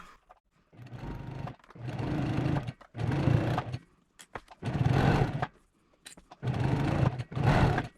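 A sewing machine stitches quilt patchwork in about five separate bursts of close, buzzing motor noise, with short quiet pauses between the runs.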